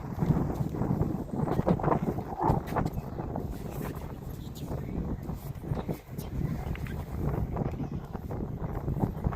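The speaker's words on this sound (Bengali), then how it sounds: "সুন্দর হাওয়া দিচ্ছে।" Steady sea wind buffeting the microphone outdoors at the sunset point of Bakkhali beach, West Bengal, a continuous low rumble with gusty bursts throughout, no clear voices.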